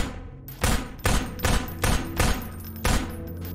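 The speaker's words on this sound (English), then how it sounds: "The handgun takes 7 shots." Seven separate handgun shots in Half-Life 2, loud and close, fired at a fairly steady pace with a slightly longer gap before the last one, with no talk over them.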